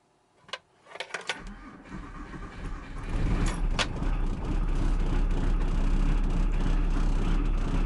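An old car with a cold engine that needs choke cranks with a few clunks and stuttering turns, then catches and settles into a steady, loud idle that carries on to the end.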